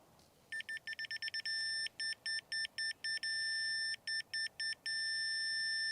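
A digital level tool beeps in rapid pulses that slow to spaced beeps, then settles into a steady tone as it reaches level, loud and close against quiet background during cabin foundation beam work.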